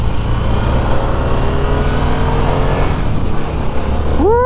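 A 2021 Harley-Davidson Sportster S motorcycle accelerates hard in sport mode on a test ride, its engine a loud, close, unbroken roar mixed with wind rush and a rising tone near the end.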